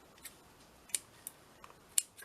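Scissors snip off thread while binding a mini fabric-spine junk journal, a few small, sharp, close snips spaced irregularly over near silence.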